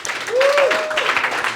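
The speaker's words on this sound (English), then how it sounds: "Round of applause for Robert, please." Brief audience applause at a film launch screening, a short burst of clapping with a whoop or voice rising over it.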